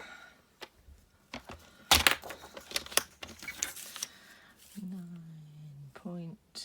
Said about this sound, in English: so I'm going to cut that now and then it's done